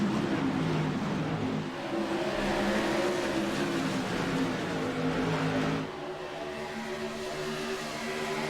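Stock cars racing on a track during an all-star event, engines droning loud and steady as a pack roars by, the pitch shifting as cars pass.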